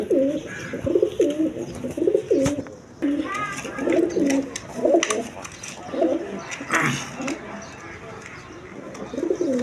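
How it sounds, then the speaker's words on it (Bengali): A pair of Danish pigeons, three-striped red, coo in steady repeated low phrases close by, with a few brief higher chirps and background noise mixed in. "এক পেয়ার ডেনিস কবুতর দিয়ে শুরু করছি"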